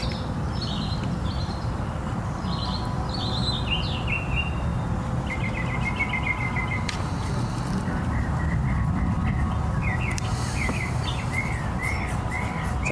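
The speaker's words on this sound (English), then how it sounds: "It's always a good sign when the birds make noise when they sing." Several birds chirp and trill in short, scattered bursts over a constant low rumble of background noise, with no one speaking.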